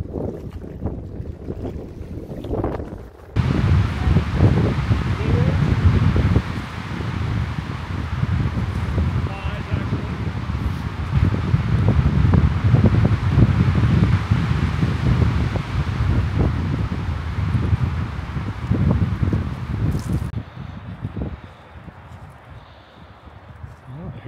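Strong, steady wind roars across a campsite at dusk, buffeting the microphone in a loud, sustained rush that swells and eases, with a quieter patch at the start and end.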